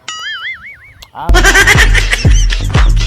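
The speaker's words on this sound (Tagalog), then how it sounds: "Daghang kayo diri mga manok mga katupay oh" Farm fowl, likely chickens, at a farm in Duero, Bohol, calling loudly and close: a wavering tonal call first, then dense overlapping squawks and clucks that repeat without pause.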